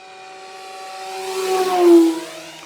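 An E-flite Commander mPd 1.4 m electric RC airplane on a 4S battery flies past, its propeller whine rising steadily in pitch and loudness, peaking near the end and then sliding lower as it passes, with no talk.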